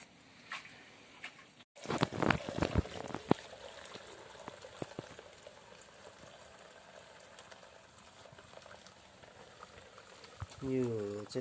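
Milk boiling and curdling in a pot while churpi is made on a Nepal hillside, a close bubbling and seething that runs steadily throughout, with a person talking over it for much of the time.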